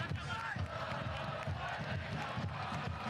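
A stadium crowd at a Portland Hearts of Pine versus Greenville Triumph soccer match gives applause and a low roar for an injured player getting back up, a broad distant crowd wash with rhythmic thumping beneath.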